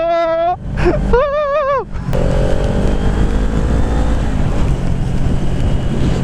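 A Kawasaki Ninja 400 motorcycle being ridden on a dry road: a few wavering, high-pitched engine whines rise and fall at the start, then give way to a steady, loud rush of engine and wind noise.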